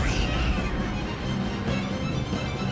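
A cat meows in the Discworld 2 video game, the short cries half buried under a dense wash of game noise and music.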